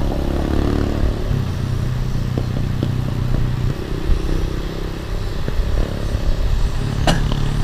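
Motorcycles and tricycles pass along a provincial road, a continuous loud engine rumble with shifting low drone, occasional clatter and a whooshing pass near the end, recorded close to the traffic.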